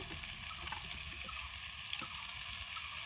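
Potatoes fry in a pan, a quiet, steady sizzle with faint crackles and an occasional soft clink, heard alone without talk.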